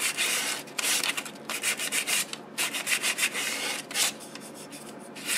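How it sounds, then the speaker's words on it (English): Hand sanding of a turned wooden inside-out ornament with 100 grit sandpaper, worked along the grain: a steady close scratchy rubbing in repeated strokes, with brief pauses between passes and no talking. "I think we'll just sand it with the grain"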